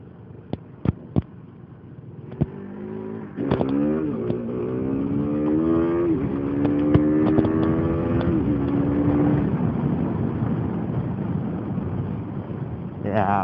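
A motorcycle doing a power wheelie, its engine revving up through rising pitch sweeps with sharp pops at the start, loud and close with wind buffeting the microphone.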